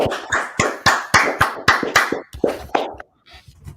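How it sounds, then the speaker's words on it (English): Hands clap in a quick, steady rhythm at a gathering of a religious school group in Washington DC, about a dozen sharp, close claps before they stop abruptly, with faint sounds afterward. "Let's clap it up."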